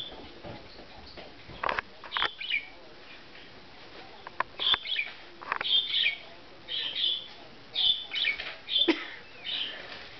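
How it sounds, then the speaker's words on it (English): A pet bird gives short, high chirps in scattered bursts indoors, fairly close, with brief soft voices and small rustles around them. "She's chirping to something."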